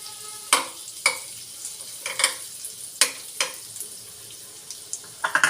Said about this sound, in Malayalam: ഫ്രൈ പാൻ നോക്കി നല്ലപോലെ ചൂടായിട്ടുണ്ടേ നമുക്ക് കുറച്ച് ബട്ടർ ഇടാം